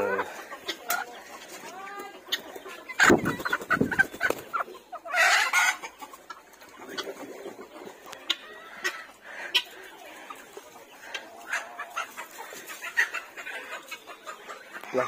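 A caged hen about six months old gives repeated clucks and squawks at close range over a faint outdoor background, with a brief louder flurry partway through and no clear talking.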